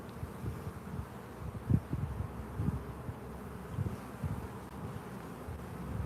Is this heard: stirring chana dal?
no